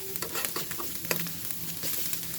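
Small white sea prawns frying in a pan, a quiet steady sizzle broken by frequent light stirring clicks and scrapes, close and soft, with no speech.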